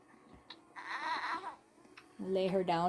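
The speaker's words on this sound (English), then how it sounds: "take the pacifier out, she's not happy. She starts to cry" A robot baby doll gives brief whimpers, then breaks into a louder, wavering wail near the end, heard close in a quiet room.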